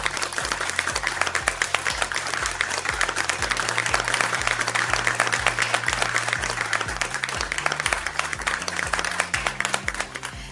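An audience at a university ceremony gives sustained applause, a dense wash of clapping that stays steady for several seconds over a low, steady tone.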